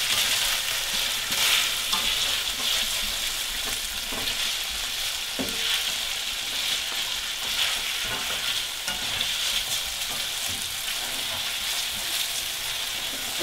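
Chow mein with crispy noodles frying and being stirred in a hot pan, a loud continuous sizzle with scraping stirs breaking through, close up and steady throughout.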